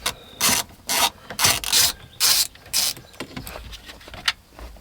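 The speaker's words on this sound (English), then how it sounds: "I think we'll just pull these two bolts here and remove the whole unit." Bolts holding the radio unit in a 1980 Cadillac Deville being worked loose, heard as a series of short, close, raspy ratcheting bursts with brief pauses between them, fading to lighter scraping toward the end.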